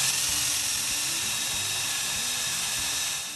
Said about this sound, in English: drill the holes using the guides